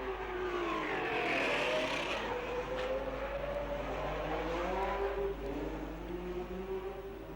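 Racing cars at the 1960 Monaco Grand Prix roar continuously, with layered engine whines rising and falling as cars pass and accelerate. The dense, loud noise holds throughout with no speech.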